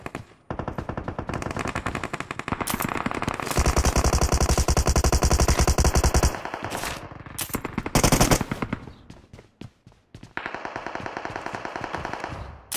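Rapid automatic gunfire in a mobile shooter game during ranked play, long loud bursts of machine-gun fire with short pauses between them and no talk.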